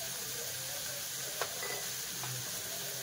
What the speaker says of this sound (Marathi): त्यात आपल्याला चांगलं तेलामध्ये परतून घ्यायचे